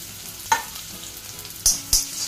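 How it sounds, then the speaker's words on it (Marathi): Chopped garlic and ginger sizzle in hot oil in a kadai for Schezwan fried rice, a low steady frying hiss broken by three sharp clinks or scrapes of a utensil, no voices. "आता हे जे लसूण आणि आलं आहे ते टाकून घेणार आहोत आपण"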